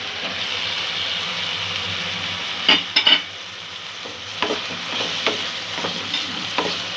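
Green peas sautéing with softened tomato in a pan for peas paneer pulao, a bright steady sizzle with a cluster of sharp spatula scrapes and knocks partway through, then lighter stirring taps, close up with no voices.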